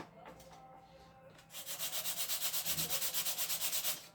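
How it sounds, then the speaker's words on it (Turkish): Steady back-and-forth sandpaper strokes rubbing on a wooden model ship hull, close and rhythmic, around a dozen even passes following a few lighter scrapes. "istediğimiz gibi boyaya hazır artık dediğimiz ana kadar zımparaya devam edeceğiz"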